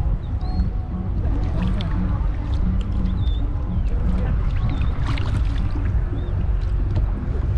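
A kayak is paddled on the open ocean off Holbox, Mexico, with soft water splashes and sloshing amid wind noise on the microphone, while people talk quietly throughout and a bird calls faintly.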